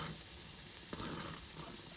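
Biscuits fry in a pan with a soft, steady crackling sizzle, quiet and close, with a brief scrape or clink partway through.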